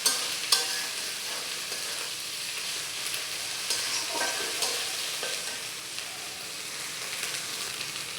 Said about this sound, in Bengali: আদা এবং রসুন বাটাটা আমি তেলে ভালোভাবে ভেজে নিব।